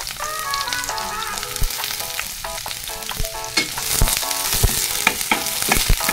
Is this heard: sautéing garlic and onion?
yes